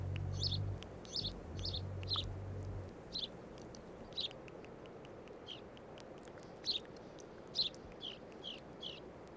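Hummingbirds give high, thin chirps in a quick irregular series, fairly faint against a quiet outdoor background with a low hum at first.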